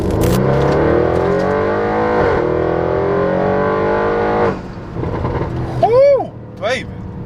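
A 2018 Audi RS7 engine drones and rises in pitch while driving, with the sound close and steady, then easing off as someone talks over it before brief higher-pitched whines near the end.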